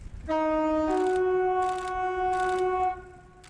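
A long, loud horn blast sounds, shifting pitch partway through, over rumbling machinery with rhythmic hissing bursts, like a Crossrail train nearby at a carriage assembly plant.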